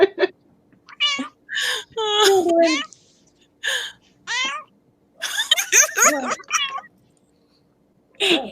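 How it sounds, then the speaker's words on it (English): A house cat meows repeatedly, giving several separate drawn-out cries, some whimpering and plaintive, spaced across the moment with short pauses between. "My cat Mandarin also says hello"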